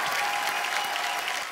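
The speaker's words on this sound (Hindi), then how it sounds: "जोरदार ताली है छोटी बच्ची के लिए" Studio audience applause on a comedy talk show for a 15-year-old girl singer, a full, even wash of many hands clapping at steady loudness for the whole stretch.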